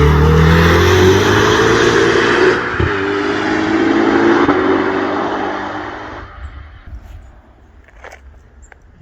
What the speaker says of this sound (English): Let's start with the car to which the title of this video is dedicated to, the SF90.